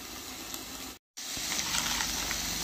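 Small onions sautéing lightly in a pan give a soft, steady sizzling hiss, fairly quiet and close, broken by a brief gap of silence before continuing.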